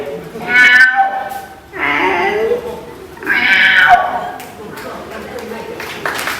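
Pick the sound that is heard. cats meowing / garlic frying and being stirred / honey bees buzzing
cats meowing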